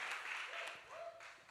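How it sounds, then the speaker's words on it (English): A church congregation claps at the close of a sermon, giving steady, dense applause that sounds soft and distant, with a few brief voices mixed in. "Give my uncle a big clap."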